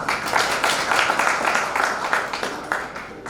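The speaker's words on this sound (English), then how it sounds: "May we please clap for him" A graduation farewell crowd at a university claps for a student, a moderate, steady patter of many hands at middle distance throughout.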